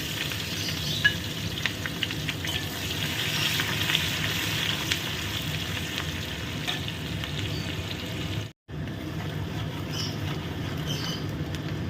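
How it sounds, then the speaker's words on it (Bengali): Finely chopped onion fries in hot oil with cumin, giving a steady dense sizzle with occasional stirring scrapes; the sound cuts out briefly near the end, then resumes. "দিয়ে ভালো করে পেঁয়াজটাকে ভেজে নেব"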